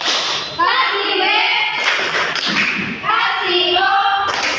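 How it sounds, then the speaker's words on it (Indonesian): Children in a primary school classroom clap rhythmically together, dull thudding beats set against loud chanting young voices in a steady pattern. "Tepuk tangan untuk kalian semua."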